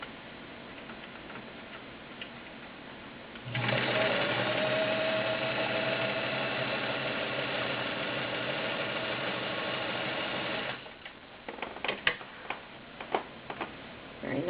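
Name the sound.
Kenmore Model 65 heavy duty sewing machine stitching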